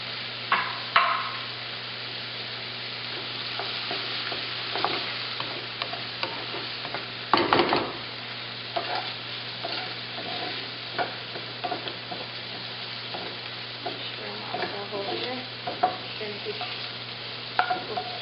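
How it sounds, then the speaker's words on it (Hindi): Chopped red and green bell peppers sauté lightly in a pan with a soft, steady sizzle. Scraping stirs and an occasional louder clatter of the utensil come through, with no talk. "बहुत डीप फ्राई नहीं करना है, हल्का सा सॉटे करना है"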